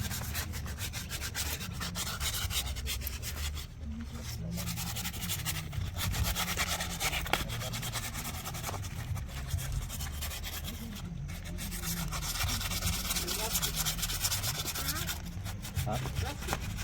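Bullock horns being rubbed down with polish paper sandpaper, a steady scratchy abrasive scraping that continues nearly unbroken at close range, with brief pauses and faint voices underneath.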